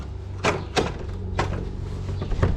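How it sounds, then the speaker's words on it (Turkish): A mosque door is opened, with several sharp knocks and clunks from the wood over steady background noise, close by and with no talk. "Kapıyı açacağım."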